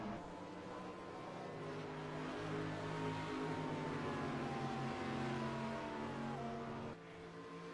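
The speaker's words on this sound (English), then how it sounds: "Man, these cars sound fantastic." Race car engines in the racing game Project CARS drone and rev continuously, a smooth shifting whine with rising and falling pitch, steady and fairly loud with no talking.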